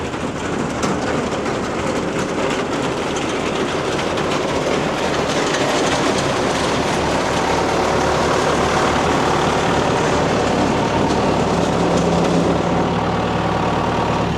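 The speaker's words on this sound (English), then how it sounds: "Shut the tractor off." A farm tractor on a cattle operation runs continuously nearby, a steady broadband engine roar with a rattling, clattering texture that holds at an even level throughout without voices.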